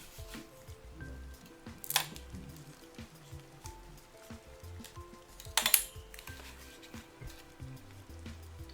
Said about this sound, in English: line up the CPU cooler holes and push down in each opposite corner.